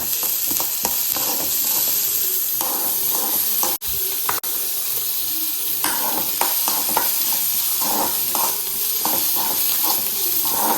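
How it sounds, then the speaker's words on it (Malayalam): Mustard seeds, chopped onion and green chilli sauté in a hot pan with a steady, close sizzle and hiss, broken by the scrape of stirring and two brief dropouts partway through. "ഇനി കടുകും ഉള്ളിയും പച്ചമുളകും എല്ലാം കൂടി ഇട്ട് വഴറ്റി കൊടുക്കാം"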